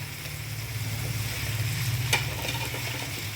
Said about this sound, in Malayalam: ഈ സവാള ഒന്ന് ബ്രൗൺ കളറായി വരട്ടെ